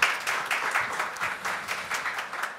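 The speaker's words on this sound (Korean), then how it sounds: "다시 한번 큰 박수 부탁드리겠습니다" Audience applause fills a hall at a public hearing on voucher card policy, honoring Professor Kim Bo-young of Yeungnam University after her presentation; dense, steady clapping from a crowd, moderately close, with a faint voice underneath.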